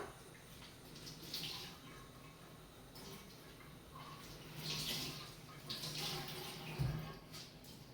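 Water runs steadily from a tap during rinsing in a kitchen, a soft continuous splashing hiss with slight surges and a brief thump near the end.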